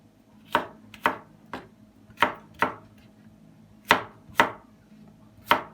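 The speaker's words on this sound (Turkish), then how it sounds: "sarımsaklarımızı gelişi güzel doğrayalım" Knife chopping garlic on a cutting board in irregular sharp thuds, about ten strikes spaced unevenly, close and fairly loud with no talking.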